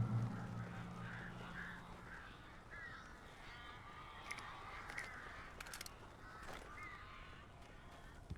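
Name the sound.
crows cawing in video game Alan Wake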